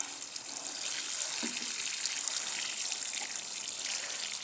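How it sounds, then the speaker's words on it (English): Steady pouring rainwater from a watering can splashing onto soil over freshly planted sugar snap pea seeds, a continuous soft gush close by with no voices. "Then I just water it in real good"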